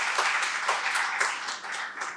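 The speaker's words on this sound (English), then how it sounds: "Please welcome him with a huge round of applause" An audience at an academic faculty development programme gives a brief round of applause, steady overlapping clapping with a roomy, slightly distant quality that tapers off at the end.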